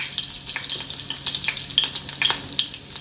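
Cumin seeds and green chilies sizzling in hot oil for a rajma curry, a loud close crackling and spitting with quick bursts and pops, with no speech.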